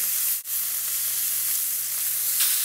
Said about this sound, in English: You hear that sizzle and you know something magic is about to happen.